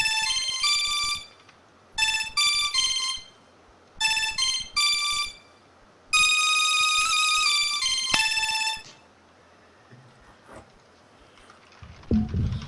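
A custom phone ringtone repeats in bursts of bright, tonal electronic chimes, with short gaps between phrases and then a longer sustained phrase, before fading out to near silence with a few faint knocks at the end.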